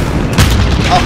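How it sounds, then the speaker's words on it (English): Grenade launcher fired in Call of Duty: Modern Warfare (2019), one short booming shot amid gunfire, loud and close, with shouting voices over it. "Grenade launcher, out!"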